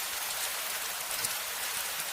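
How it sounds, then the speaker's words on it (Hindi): Rain falls steadily on a road in a windy night setting, a dense, even hiss with scattered drop patter that stays constant and fairly loud throughout, with no voices. "करीब 15 मिनट बाद बारिश धीरे धीरे कम होने लगी।"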